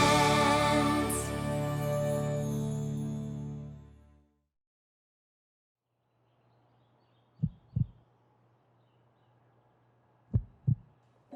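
Slow heartbeat of a cartoon pony character: two soft double thumps, lub-dub pairs spaced about three seconds apart over a faint hum, following a fading sustained musical chord.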